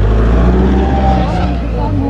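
Several cars launch together at the start of a blindfolded race at an off-road club gathering, with a loud, steady engine roar throughout and people talking over it.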